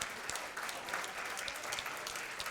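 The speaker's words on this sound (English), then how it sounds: "Another round of applause, please, for the Hamilton High School Jazz Band." An audience gives a high school jazz band a round of applause: dense, steady clapping at an even level, with no voices over it.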